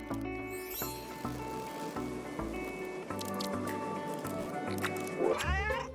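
Cats meow comically in a mobile game ad built around a time-lapse of a base being constructed, their cries sliding over a steady bed of upbeat music, with a squishy, wet-sounding accent near the end.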